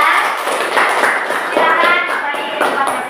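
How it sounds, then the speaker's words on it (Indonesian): A school class claps for a student group in a classroom, sustained dense applause at close range over a few seconds with voices mixed in. "tepuk tangan buat kelompok 3"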